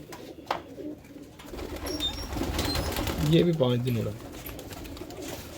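Mangola pigeons in a loft coo in a low rolling call midway, close by, under and between bursts of nearby conversation.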